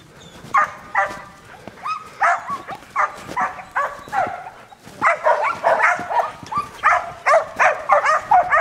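Blue Merle puppies bark repeatedly in close, loud bursts, some yappy and overlapping, with brief pauses between volleys and little talk.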